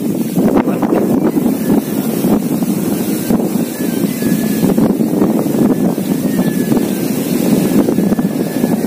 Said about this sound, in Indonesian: Angin memang lagi kencang